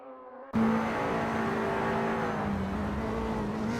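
Touring race cars running nose to tail at Monza in a sim racing game drone loudly after a sudden start, a sustained engine whine with shifting pitch as the pack drives on.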